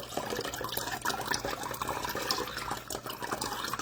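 Tap water pours steadily into a drinking glass, a continuous close splashing and gurgling flow with no talk over it.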